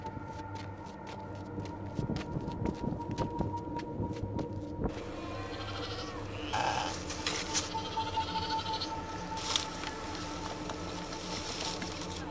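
Sheep bleat a few times on a mountainside in the early morning near a rural home, the calls fairly close and clear over a steady outdoor background with faint hoof and vehicle noise.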